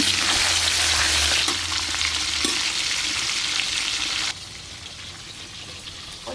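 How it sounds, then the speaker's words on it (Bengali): Pomfret fish frying in a pan of oil, a loud continuous sizzle and spatter that drops in intensity partway through, with no talking. "এই মাছ যা আছে সব একবারে ভেজে নেব।"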